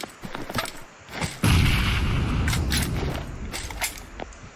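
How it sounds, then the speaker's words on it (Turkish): A grenade explodes in PUBG Mobile at Georgopol, a sudden loud boom with a rumbling tail, preceded and followed by scattered sharp gunshots. "Bomba attım."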